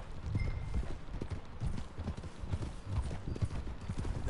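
Horse hooves clip-clop steadily in an uneven walking rhythm at close range as riders set out on a ranch, with soft rustling and scuffing around the footfalls and no talk.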